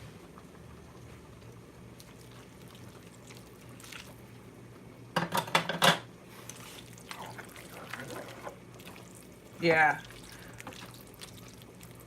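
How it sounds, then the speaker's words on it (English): Pasta water poured into a pan of sauce in a home kitchen, two short splashing pours several seconds apart, near and fairly loud, with quiet background clatter and a brief voice. "I'm gonna add some pasta water to as well"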